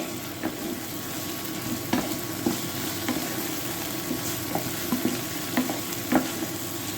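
Heinz barbecue beans warm in a pan for a pasta bake, with a steady soft sizzle and spoon scrapes and taps stirring them at intervals, close and moderately quiet.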